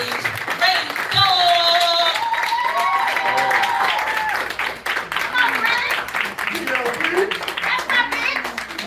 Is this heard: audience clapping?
yes